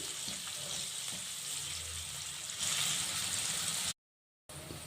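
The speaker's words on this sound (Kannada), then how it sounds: "ಫ್ರೈ ಆಗಲಿ ಒಂದು ಎರಡರಿಂದ ಮೂರು ನಿಮಿಷ ಈರುಳ್ಳಿ" Onions frying in a pan, a steady close sizzle that swells briefly near the end before cutting out, with no talk.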